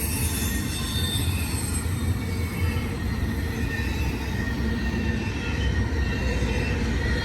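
A fast BNSF intermodal freight train rolls past at Cajon Summit with a continuous loud roar of wheels on rails and faint high squeals, steady and close throughout.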